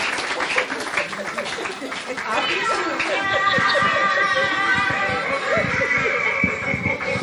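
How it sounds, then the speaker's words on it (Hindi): An audience at a Brahma Kumaris New Year 2023 celebration bursts into loud, dense applause, mixed with chatter and some laughter from the crowd. "जोरदार ताली बजा, इनके लिए ताली तो बजा दो।"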